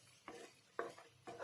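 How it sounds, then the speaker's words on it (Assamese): Tomato paste with spices stirred and frying in a pan for a fish curry with mustard seeds, three scraping stir strokes in a steady rhythm over a soft sizzle, close and alone. "এনেকৈ লৰাই লৰাই আকৌ আমি 2-3 মিনিটমান সময় ভাজি থাকিব লাগিব"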